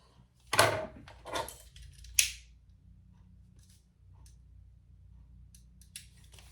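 Scissors trimming excess lining fabric on a sewn card-slot piece, a few close, crisp snips in quick succession followed by quieter handling sounds.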